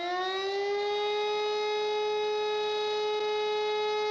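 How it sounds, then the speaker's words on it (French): A civil defense style siren at the Nürburgring circuit during Touristenfahrten, one long steady wailing tone that rises at the start and then holds loud and even throughout, with no talk. "on commence à entendre cette sirène retentir"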